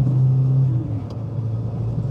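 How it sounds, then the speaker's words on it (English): A turbocharged Nissan K11 Micra hatchback drones with a steady, loud low engine note, a brief rising whine of the turbo spooling up near the start, then a continuous rumble. "Just listen to the turbo spools"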